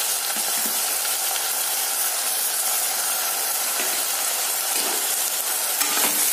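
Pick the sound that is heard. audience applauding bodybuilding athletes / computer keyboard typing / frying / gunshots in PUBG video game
frying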